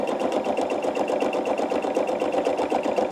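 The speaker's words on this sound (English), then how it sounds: "put my needle down, and I've got that wrapped around the back, and I'm gonna stitch" Quilt binding being stitched on a sewing machine with a 1/4 inch foot, giving a steady, fast, even mechanical whir with dense regular needle pulses, continuous and close with no voices.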